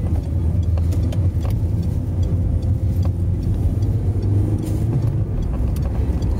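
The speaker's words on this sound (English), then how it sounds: "Let that diesel rip." A diesel car pulls away and accelerates, its engine a loud, continuous low rumble heard from inside the cabin, with no speech.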